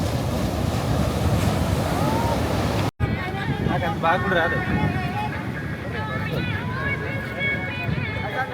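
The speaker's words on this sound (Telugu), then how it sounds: "ఈ బీచ్ పేరు వచ్చేసి గోల్డెన్ శాండ్ బీచ్ అనమాట" Surf rolls in on Golden Sand Beach at Poovar, Kerala, a steady roar of waves under wind buffeting the microphone, with people talking over it and a brief cut partway through.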